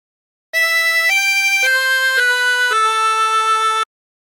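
A chromatic harmonica plays a short phrase of the hymn Be Thou My Vision, five clear sustained reedy notes in a slow stepwise line, close and alone, the last note held longest.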